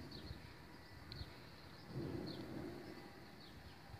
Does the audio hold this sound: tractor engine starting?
no